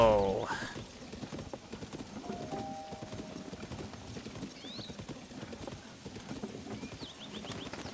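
Horse hooves clip-clopping in The Legend of Zelda: Tears of the Kingdom, a brisk, regular trotting rhythm that runs throughout, with a brief whinny at the start and a few faint high chirps.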